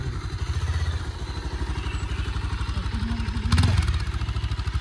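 Dad's motorcycle ridden slowly along a narrow drain-side path, its engine chugging in a steady, close, even pulse with a brief louder surge near the end, with a voice faintly heard.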